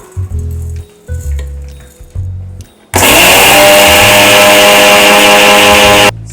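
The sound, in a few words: grinding rolled oats into oat flour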